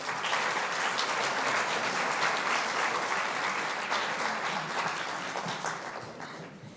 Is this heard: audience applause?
yes